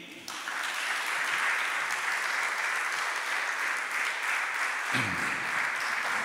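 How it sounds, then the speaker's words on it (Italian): Sustained applause from a poetry festival audience in Genoa welcoming poet Ming Di, a dense steady clapping that starts abruptly and carries on loud and unbroken, with a brief dip near the end before swelling again. "Vorrei che accogliste con un grande applauso lungo da qui alla Cina Ming Di"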